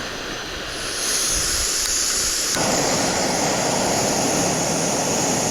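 An isobutane camp stove burner catches and roars, a close, loud, steady hissing rush that jumps in strength partway through and holds, with no voices.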